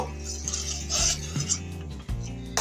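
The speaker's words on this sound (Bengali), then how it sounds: "এটা নাড়াচাড়া করতে হবে, নয়তো নিচে লেগে যেতে পারে" Close, steady metallic scraping and clinking as a spoon stirs boiling milk around a pot for fruit custard, in several quick strokes with no talk.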